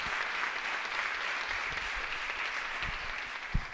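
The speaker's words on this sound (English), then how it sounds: "Round of applause, everyone." Steady audience applause at the Dragon Challenge evening event, continuous clapping heard from some distance at a fairly quiet level, with a few low thumps near the end.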